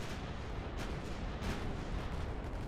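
Naval guns firing in the warship game Ultimate Admiral Dreadnoughts, a dense, continuous rumble of heavy cannon blasts with a few sharper reports rising out of the steady roar.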